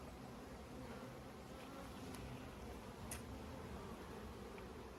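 Honey bees buzzing during a hive inspection, a dense continuous drone filling the whole stretch at low level, with faint rustles and a couple of brief clicks and no voices.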